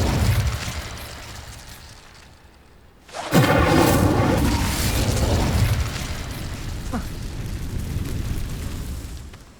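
An Incendio fire spell in Hogwarts Legacy: a quieter rumbling lead-in, then a sudden loud whooshing flame burst about a third of the way through, roaring on with crackling texture until the end.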